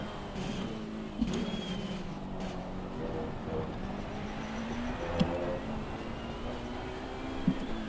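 Ferrari Challenge race car in Forza, not the GT3 version, with a steady engine drone and shifting harmonic tones at a constant moderate level, plus a few brief sharp clicks.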